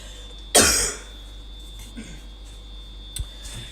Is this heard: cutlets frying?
no